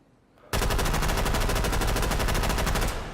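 Sustained full-auto burst from a Thompson M1928 M1A1 submachine gun in a VR shooting game, a dense rapid stream of shots starting abruptly and running steadily at high loudness for over two seconds, aimed at a clay pot target.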